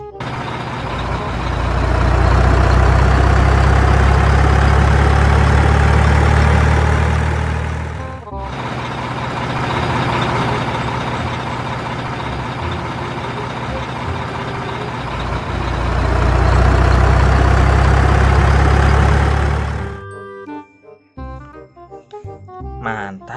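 A dump truck's diesel engine rumbles loudly and steadily in two long swells separated by a quieter stretch, then cuts off abruptly, leaving a few faint, sparse sounds.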